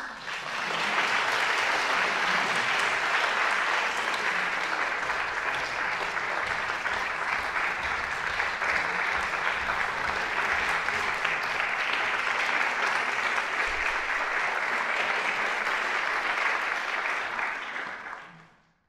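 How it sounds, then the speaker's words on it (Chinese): A concert-hall audience gives warm applause for a choir conductor at a memorial concert for Professor Peng Ming-min. The dense clapping is sustained for about seventeen seconds, then fades quickly to silence. "让我们再次以热烈的掌声来欢迎曾慧君老师"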